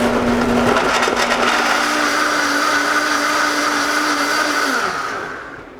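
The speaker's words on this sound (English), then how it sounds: "Those go straight to the blender." A kitchen blender whirs loudly and steadily as it purees rainbow chard, mango, banana and water into a green smoothie, a continuous motor drone that runs alone for about five seconds before winding down at the end.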